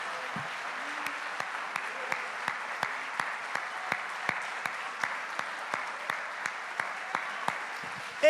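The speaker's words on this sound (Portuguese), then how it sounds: "Será que você pode, nesse momento, aplaudir o cabeça da igreja?" A church congregation at a morning worship service claps in an even, steady beat, the rhythmic hand claps repeating moderately loud over a quiet room.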